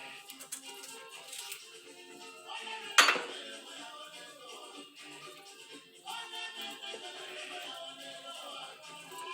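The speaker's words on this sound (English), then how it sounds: "I'm going to use knife too" Knife work on a board while vegetables, including avocado, are prepared for a summer salad, with steady close clatter and clinks of utensils and one sharp louder knock near the start.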